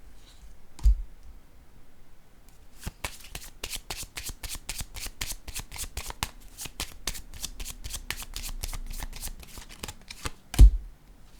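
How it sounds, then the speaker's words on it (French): Cards being laid out on a table during a reading: after a lone tap, a long rapid run of crisp clicking card snaps follows in quick succession, ending with a sharper thump, with no talk over it. "Je vais déposer d'autres cartes."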